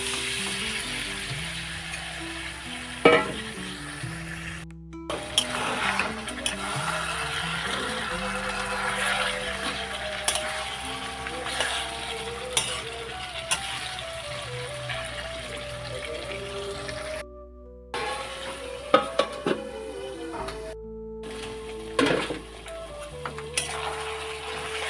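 Marinated chicken pieces tipped into a pan of deep-browned fried onions for a Bengali chicken curry, with a busy mix of sizzling, stirring scrapes and clatter running continuously up close, broken by a few abrupt short gaps.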